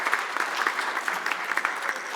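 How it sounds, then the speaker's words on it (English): Conference hall audience giving a round of applause, brisk steady clapping from many hands at moderate volume, heard alone without any voices. "Can you give them a round of applause for appreciation?"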